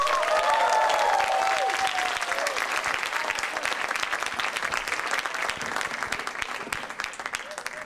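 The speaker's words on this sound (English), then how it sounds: "Please give a warm round of applause for Masa Young Minds." An audience at a university team pitching competition final gives a loud, sustained round of applause that carries through the whole stretch, with a brief whistle or cheer near the start.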